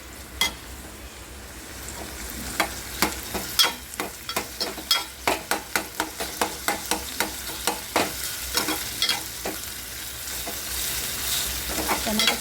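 Okra with red chili spice, onion and tomato masala frying in a pan, with sharp rhythmic scrapes of a spatula stirring over a soft, continuous sizzle.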